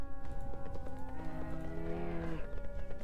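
Horse hooves clip-clopping in the video game Sacred Gold, a steady run of muffled hoof beats under droning background music.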